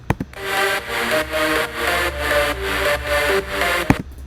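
Layered synth leads play together in a dense, bright drop, pulsing in a steady rhythm with wide buzzy tones, opening and closing with short clicks.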